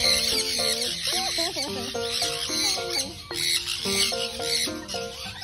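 Chickens and other birds cluck and call nearby in a busy, overlapping stream of bright, pitched clucks and chirps that continues without a break.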